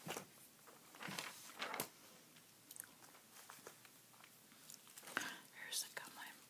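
Soft, close chewing of Bazooka original bubble gum, with wet smacking and light crunchy bites in an irregular rhythm, mixed with whispered talking in a quiet room.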